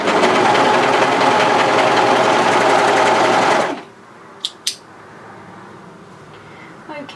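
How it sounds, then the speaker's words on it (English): An overlocker runs steadily, sewing a notched seam on a pullover hoodie with pieces placed right sides together, with a loud continuous mechanical whir for nearly four seconds before it stops abruptly, leaving quiet room tone and two brief clicks. "we want to overlock the seam with the notch just in"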